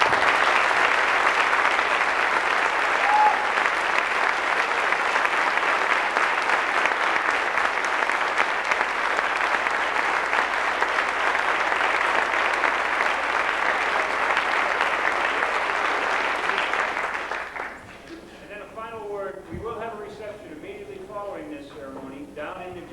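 Sustained applause from a large graduation audience honoring Embry-Riddle faculty at the Prescott campus, a steady dense roar for about seventeen seconds that cuts off abruptly, followed by a few seconds of someone talking.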